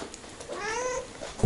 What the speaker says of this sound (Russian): меня кошка встречает